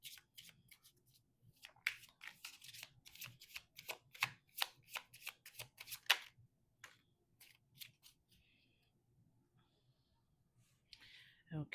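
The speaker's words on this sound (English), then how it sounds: "Let me get one oracle card for the singles, and then I'll get another love oracle card for" Oracle cards are shuffled by hand in a dense run of crisp, close riffling slaps and flicks for several seconds. Softer handling and a brief rustle follow after a pause.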